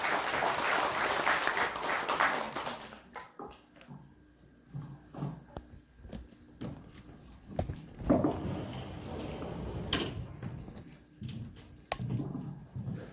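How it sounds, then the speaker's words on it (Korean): An audience applauds a speaker being introduced at a lecture. Dense, loud clapping lasts about three seconds, then thins into scattered claps that taper off. "뜨거운 박수 부탁드립니다"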